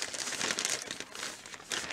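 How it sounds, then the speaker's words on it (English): See-through plastic bags crinkle and rustle up close in short, irregular crumpling bursts with no voices. "These are quite good see-through plastic bags."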